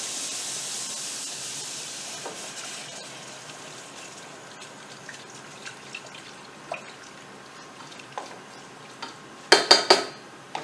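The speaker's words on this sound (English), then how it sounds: "Now we're going to whisk in our milk." Milk being whisked into a cream sauce in a pan for chicken cordon bleu: a soft steady sizzle and hiss, then scattered light metal taps building to a few sharp clinks of the whisk against the pan at the end.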